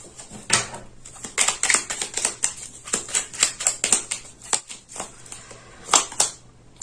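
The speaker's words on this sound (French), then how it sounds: "Je vais rajouter une carte." A tarot card drawn from the deck and laid on a table, heard as a series of close, crisp paper slides, flicks and soft taps in an irregular patter with no talk over it.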